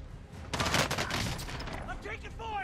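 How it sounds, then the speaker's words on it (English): Video game gunfire in a Call of Duty style multiplayer match, a loud dense burst of rapid shots with a shouted voice over it, followed by quieter sounds. "I'm taking fire!"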